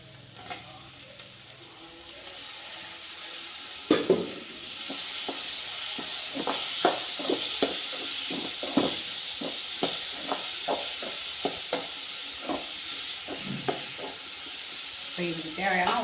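Tomatoes frying in a pan for a mutton bone soup, with a steady broadband sizzle and a run of regular scraping stirs from a spatula, close and clear, with no talking.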